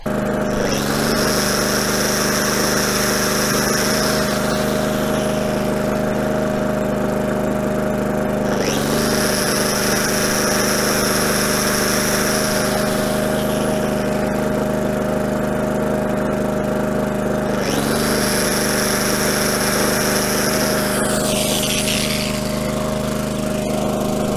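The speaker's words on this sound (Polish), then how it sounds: "przedostatni test, czajnik i szlifierka kątowa" A steady, loud, close drone of an Aries EA 3000AVR 3 kW generator runs throughout while it powers a kettle and an angle grinder, with a high whine rising and dropping out in three cycles as the grinder starts and stops.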